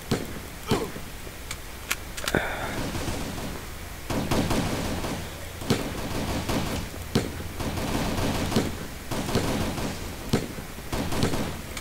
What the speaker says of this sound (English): I've got recoil on this gun.